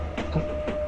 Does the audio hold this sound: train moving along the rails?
yes